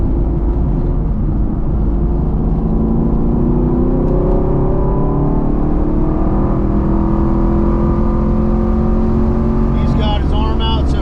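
On a road course, the engine of a BMR-equipped sixth-generation Chevrolet Camaro roars loudly and steadily, its pitch climbing through long pulls, with a quick shift late on. Talk is heard over it.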